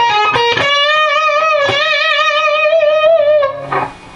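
Electric guitar lead lick from the chorus of a song: a few quick picked notes rising into a long, loud, distorted sustained note with wide vibrato, ending on a brief scrape, played alone with no talking.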